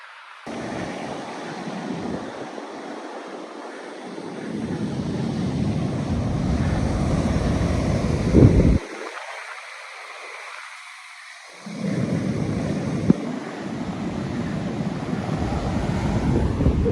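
Southern Ocean waves wash onto a sandy beach in broad rushing surges, heavily mixed with wind buffeting the microphone.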